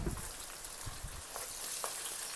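Cinnamon stick, bay leaves and star anise fry in a pan for egg fried rice, giving a soft, steady crackling sizzle with a few low bumps early on.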